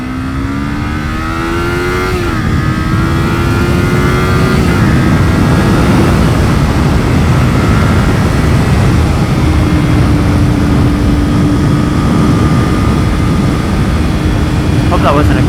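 A car accelerates along an open road, its engine note climbing and shifting as it revs up and then holding a steady loud drone with road and wind noise throughout.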